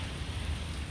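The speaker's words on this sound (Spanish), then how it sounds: "Se está cayendo un pijazo de agua bastante grande." Heavy rain pours down in a continuous dense hiss, loud and close, with a low rumble beneath it, lasting under a second with no voices.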